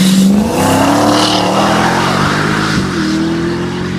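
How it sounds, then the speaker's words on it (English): A 1964 Chevrolet Impala engine running with a bad exhaust leak, loud and close, a steady rumbling drone whose pitch rises slightly as it revs up and then settles, no talking. "This is my 1964 Impala. I'll pull it out and do another walk around, but it's got a bad exhaust leak."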